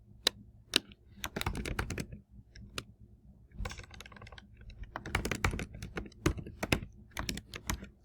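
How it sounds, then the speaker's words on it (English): Bursts of quick, close keystrokes on a computer keyboard come in uneven clusters with short pauses between them, quiet and without talk. "So I'm typing in this as dummy text."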